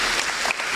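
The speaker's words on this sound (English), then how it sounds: "A round of applause for that opportunity." Audience applause at a school prize giving ceremony, a brief, loud wash of many hands clapping together.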